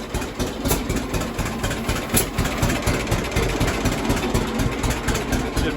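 A John Deere Model A tractor's two-cylinder engine runs close by, with a steady loud chugging throb and rattling knock that hold even for several seconds and no voices.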